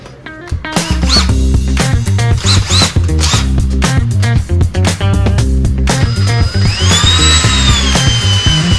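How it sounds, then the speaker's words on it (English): A power drill bores out a broken metal bolt with a steady, loud whine whose pitch shifts as the bit chews through, then rises into a higher, squealing tone near the end. "This is drilling pretty fast."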